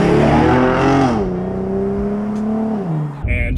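Cadillac ATS V6 engine revving hard and close, a loud, steady rasping drone that rises, holds near the top of the rev range, then falls away, with a brief mechanical clatter at the end.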